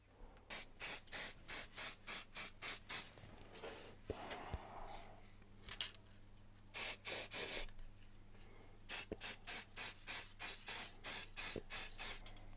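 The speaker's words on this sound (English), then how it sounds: "ready to give it another spray" Rattle can spray paint hissing onto a cafe racer motorcycle engine in a quick run of short, evenly spaced bursts, then a pause with faint handling noise, a longer blast, and another steady series of short sprays close by.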